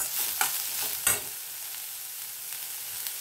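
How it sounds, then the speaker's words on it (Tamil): Vegetables sautéing in a pan with chili, coriander, garam masala and turmeric powders, giving a soft sizzle under quiet stirring and a couple of sharper scrapes of a utensil, with no talking. "மிளகாய் பொடி, கொத்தமல்லி பொடி, கரம் மசாலா, மஞ்சள் பொடி இதெல்லாம் போட்டு வதக்கணும்."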